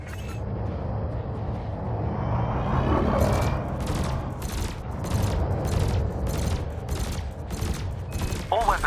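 Spaceship weapons in Elite Dangerous fire at canisters: a low engine rumble runs throughout, then rapid bursts of shots repeat at a steady rhythm, loud and close, from about a third of the way in.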